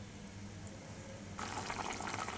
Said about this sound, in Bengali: চলো এবার আমি জল দিয়ে দিই।